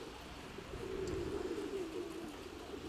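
Pigeons coo in a steady low murmur, close by and continuous, with a faint rustle of birds around them in a backyard loft.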